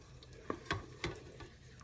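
Country gravy is stirred in a rice cooker: a few quiet scraping strokes and soft clicks of a utensil against the pot over low background hum, close and faint, with no talking.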